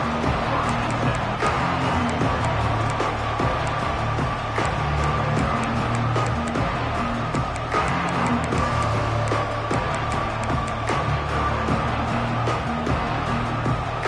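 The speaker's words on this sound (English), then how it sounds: "This crowd ready to make its presence known." Stadium crowd at a football game, a continuous roaring wash of cheering voices with steady loudness throughout, broad and distant-sounding with no single voice standing out.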